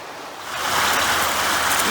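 Water rushes steadily through the dam at the end of Grand Lake, an inland lake, making a broad, loud roar that swells within the first second and then holds constant.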